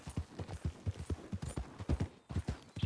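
Horse hooves in the Red Dead Online game clip-clop at a steady trotting rhythm. The hoofbeats are close and moderately loud, with no talking.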